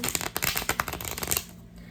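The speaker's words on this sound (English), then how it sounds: "Okay, let's get some shuffles" Tarot cards being shuffled by hand, a quick run of crisp riffling flutters and soft slaps that stops abruptly near the end, close and alone with no talking.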